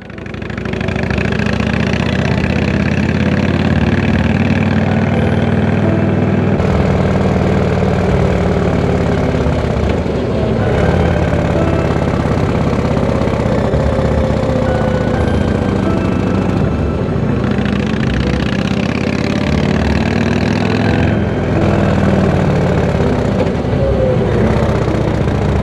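A motorcycle engine idles steadily and loudly at close range, a continuous low rumble that holds throughout with slight shifts in tone and no voices.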